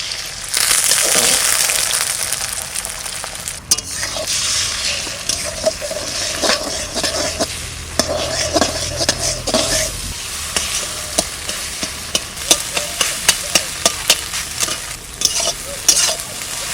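Four eggs frying in oil in a kadai-style wok give a steady close sizzle, with scraping and clinking from stirring in the second half.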